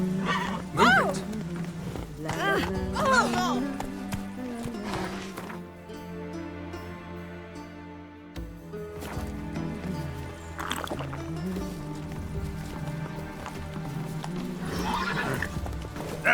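Geralt's horse Roach in the Witcher 3 video game neighs several times and clip-clops along over a steady bed of game music, with brief voices between the whinnies.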